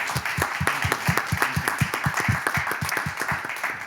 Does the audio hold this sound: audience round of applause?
yes